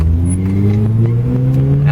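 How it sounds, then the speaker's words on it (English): A 1984 Mazda RX-7 GSL-SE rotary engine winding up in first gear, a loud, steady, rising drone with layered harmonics that climbs smoothly in pitch throughout, close up and without talk. "You can hear the motor just wind on this thing. Just what a rotary is supposed to do."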